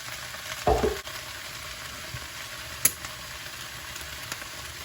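Chopped potatoes sizzle steadily in a pan, with a brief clatter of pieces dropping in early on and a sharp clink later.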